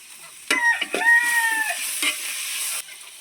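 Vegetables salted in a pan to wilt them sizzle loudly once added, with a few sharp stirring scrapes. The frying holds strong for about two seconds, then drops away abruptly.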